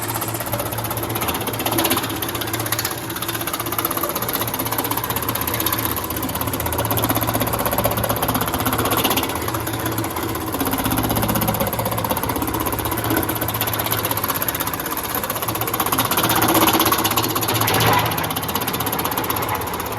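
A small electric-motor-driven power hammer runs steadily with a dense, rapid mechanical pounding and hum throughout, fairly loud and close.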